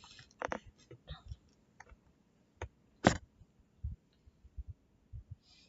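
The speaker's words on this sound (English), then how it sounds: "you might hear a little bit of clicking or something in the background" Scattered clicks and light knocks sound close in an otherwise quiet room, spaced irregularly with one sharper, louder click near the middle.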